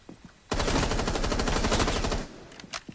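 Automatic gunfire in the Rainbow Six Siege video game rattles in one loud, sustained burst lasting about one and a half seconds, followed by a few faint clicks.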